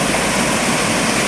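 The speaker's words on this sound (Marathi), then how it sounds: "बघा तिकडून पाणी येतो आणि हा पूर्ण भरलेला आहे" Water pours steadily into a full rain-fed monsoon swimming spot by a hill, a loud, unbroken rushing wash with no voices.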